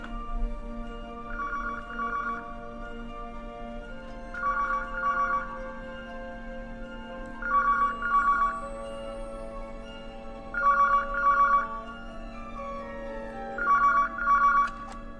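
Classic double-burst telephone bell rings repeatedly in a Doctor Who minisode, five evenly spaced trills over a low background hum, clear and moderately loud with no talking.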